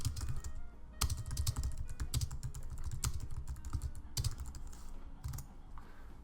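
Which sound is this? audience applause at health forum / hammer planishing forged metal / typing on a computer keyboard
typing on a computer keyboard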